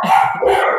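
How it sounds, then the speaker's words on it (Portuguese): Dogs at neighbouring houses in a residential area let out one sharp, loud bark, close and brief, with nothing else audible. "é os cachorros."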